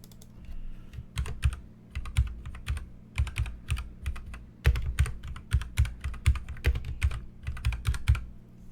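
Rapid clicking of keys on a computer keyboard, typed one-handed, comes in irregular bursts with short pauses, close and clear with no talking.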